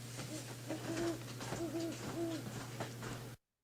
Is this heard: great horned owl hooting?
yes